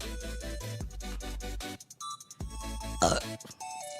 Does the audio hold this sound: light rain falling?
no